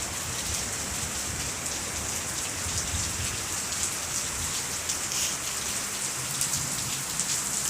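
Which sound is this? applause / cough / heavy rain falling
heavy rain falling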